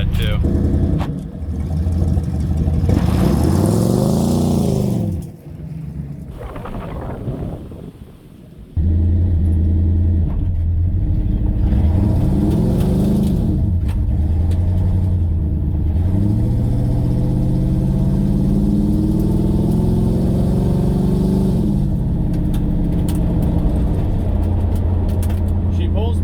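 A 1956 Dodge Regent accelerating hard: a loud, rising mid-range engine roar that revs up through several gear pulls, briefly dropping off mid-way before a strong, steady pull resumes, with talk heard over parts of it.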